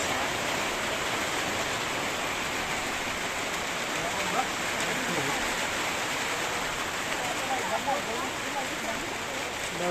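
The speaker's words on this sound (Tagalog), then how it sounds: "Kaso sa kasamaang palad nagtudog ang ulan" Steady rain hisses continuously, an even wash of falling water with occasional faint drips, and speech is likely present somewhere beneath it.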